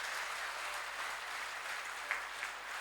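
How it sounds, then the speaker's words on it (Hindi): Steady, dense applause from an audience at a Hindi comic poetry gathering (kavi sammelan), a continuous wash of many hands clapping at even loudness throughout, with a couple of slightly sharper claps near the end. "तालियां पीछे तक जोरदार आनंद के साथ बजाइए।"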